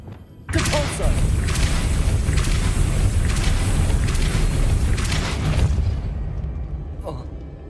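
A Depulso spell cast in Hogwarts Legacy, landing as a loud, sustained booming blast that holds for about five seconds before fading, with a heavy low rumble throughout.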